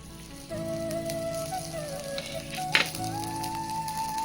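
Ghee sizzles around a rava dosa on a hot pan, a steady close frying crackle with a brief louder burst partway through.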